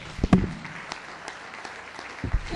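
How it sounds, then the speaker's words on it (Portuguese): A church congregation applauding during a worship service: scattered, moderately loud claps that bunch at the start and again near the end, with quieter patter in between. "Mais palmas ao Senhor por essa graça maravilhosa"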